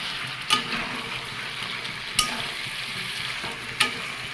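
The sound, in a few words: chicken sautéing with spice masala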